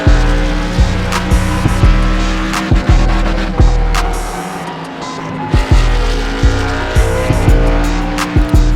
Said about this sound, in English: getting the race car turned or race truck turned, and then getting a nice straight run up off the corner